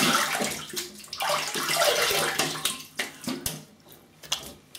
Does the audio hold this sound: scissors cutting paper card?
no